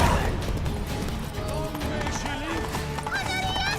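A horse gallops under Geralt in The Witcher 3, steady clip-clop hoofbeats running beneath lively game music and overlapping spoken dialogue, with an occasional whinny near the end.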